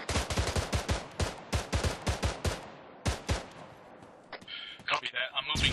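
Close, loud bursts of video game gunfire crack out in rapid clusters, then thin to a few shots as sharper, higher-pitched fire follows near the end; no speech is heard over the shooting.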